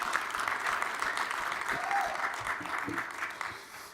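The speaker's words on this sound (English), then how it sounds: "That right there deserves a round of applause for our commissioner." Audience applause at a sports keynote address honoring the NBA commissioner: a dense, steady burst of clapping from a large crowd that holds for several seconds and then tapers slightly.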